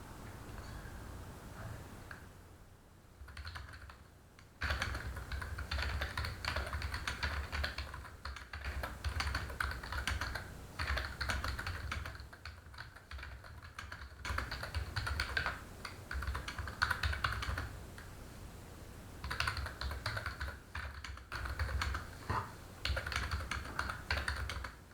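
Steady computer keyboard typing as a message is written, dense clattering keystrokes running for most of the stretch with a few brief pauses, close and clear with no talking.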